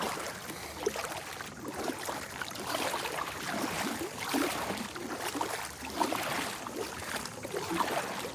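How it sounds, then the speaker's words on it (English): A kayak paddle dips and swishes through lake water in slow repeated strokes, faint and soft with gentle splashing and drips. "you do get a good workout paddling"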